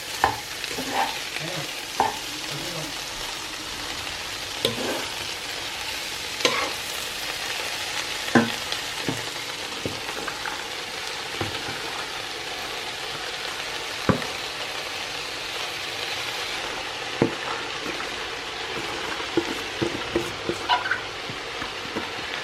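Chopped spinach stirred into a simmering, frying kafta stew, with a continuous sizzle and wet bubbling broken by repeated scraping and stirring knocks, close and steady with no talking.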